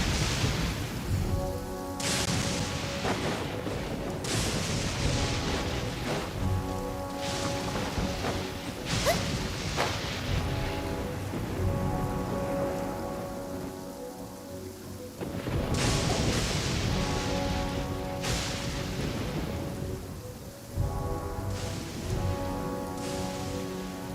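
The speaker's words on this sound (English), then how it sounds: "Oh, I don't like the rain." Heavy rain pours steadily in the Genshin Impact game world, broken by several loud thunder crashes and rumbles that recur every few seconds, with no talk over it.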